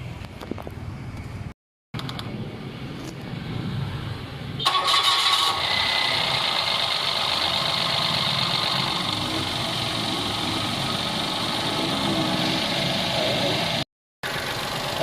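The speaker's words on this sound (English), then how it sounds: "So we're going to start the engine." A Mitsubishi Mirage 3A92 engine cranks and catches, then settles into a steady, loud idle close by, with brief cutouts in the sound.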